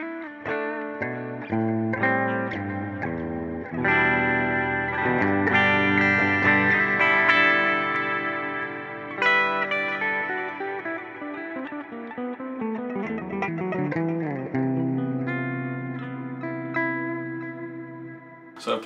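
A Parker 6-string custom electric guitar rings out through effects with chorus, reverb and mild drive, played as melodic notes and chords in a bedroom, loud and up close, with no talking.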